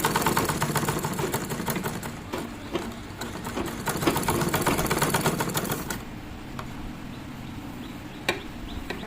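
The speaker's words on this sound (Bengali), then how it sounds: "কুচির ওপর দিয়ে আস্তে আস্তে মেশিন চালিয়ে চলে আসবো।" A domestic sewing machine runs slowly over gathered fabric pleats while a nightie is being stitched, its steady rapid needle chatter loud and close for about six seconds before dropping to a softer, sparser whir with a few clicks.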